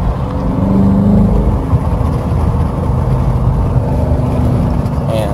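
A 2018 Daytona's engine pulls hard under acceleration, a loud, steady, full-bodied roar that holds nearly constant for several seconds with a slight rise in pitch near the end.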